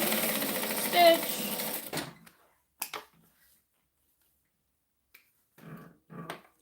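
A sewing machine stitches a handbag in a fast, steady whirring run for about two seconds, then stops; a few short knocks and rustles follow, with quiet gaps between them.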